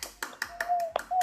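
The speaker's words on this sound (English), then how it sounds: "Let's clap for all these children." A small group of children claps in a quick, uneven rhythm, about seven sharp, fairly faint claps in just over a second, with a thin tonal sound running faintly beneath.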